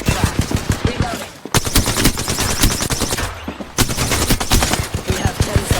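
Rapid automatic gunfire in the Apex Legends battle royale game: dense, loud bursts of fast shots that break off briefly twice and then resume, close and continuous.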